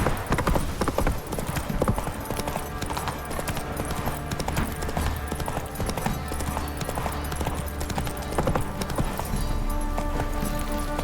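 A horse gallops in The Witcher 3 game, its rapid rhythmic hoofbeats pounding steadily and close over a dense game soundscape, with brief voice bits mixed in.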